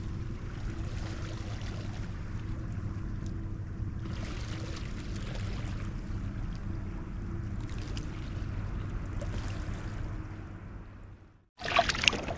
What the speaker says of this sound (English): my girlfriend is trying to paddle